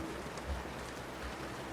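Steady rain falls in the video game Snowbreak, a soft, even hiss of drops on surfaces that carries on without a break and stays fairly quiet.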